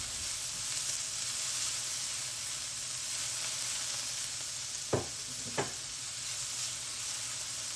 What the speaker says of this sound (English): And for the onion, you want to cook it till it's like lightly brown and soft.